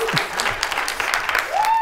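Scattered audience clapping fills a short burst, broad and steady, with a brief rising tone near the end.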